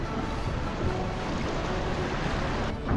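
Rushing river water and choppy waves slap beneath a tour boat on the Colorado River in Glen Canyon near Horseshoe Bend, a steady, close, broadband wash that stays loud throughout with no one talking.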